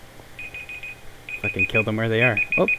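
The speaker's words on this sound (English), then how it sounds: "And that's my alarm." A repeating electronic alarm beeps in a Minecraft Sky Factory session, a thin high tone pulsing rhythmically under an excited voice that swears and exclaims over it.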